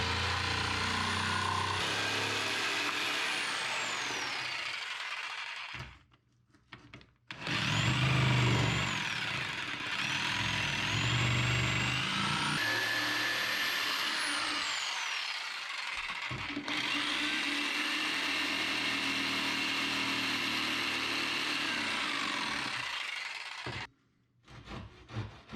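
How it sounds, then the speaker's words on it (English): A jigsaw cuts through wood to clear the waste between the tenons of a breadboard end for a table top, a loud steady buzzing whine in long runs, broken by short pauses and ending with brief restarts. "I just use a jigsaw to cut away the material between the tenons and at the ends."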